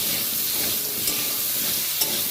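Potatoes sizzle in hot oil in a pan, a soft steady frying hiss with a couple of faint clicks as they are stirred.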